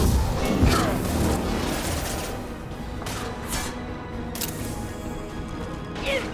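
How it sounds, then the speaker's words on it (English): In Mass Effect 2, an incineration tech power fires amid combat as a rough, roaring burst of flame with crackling impacts and scattered booms, continuous through the fight noise. "Deploying incineration tech."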